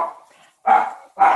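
A dog gives two loud, close barks in quick succession, each preceded by a softer whine.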